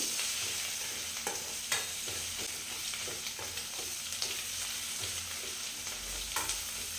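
A bottle gourd peel mixture with salt is stirred in a hot pan, quiet sizzling under repeated soft scraping strokes of a spoon.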